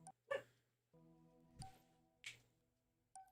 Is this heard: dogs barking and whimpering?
yes